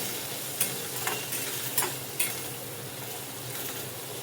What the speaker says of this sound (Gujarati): હવે તેને સરસ એવું મિક્સ કરવાનું છે